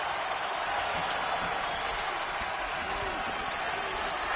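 A loud basketball arena crowd roars continuously at a Marquette at Butler college game, a dense, sustained wall of cheering and noise with scattered higher shouts and a commentator's voice faintly running beneath.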